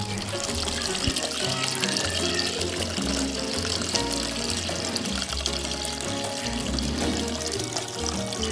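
Homemade pineapple wine is strained, giving a continuous pouring, splashing liquid sound. It is close and fairly loud, steady throughout, with no talking.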